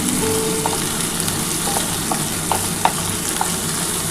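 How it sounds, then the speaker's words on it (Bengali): Onions frying lightly in a pan with a little sugar, a steady close sizzle with occasional soft spatula taps and clicks scattered through, no talking. "আগে পেঁয়াজটা একটু হালকা করে ভেজে নিই"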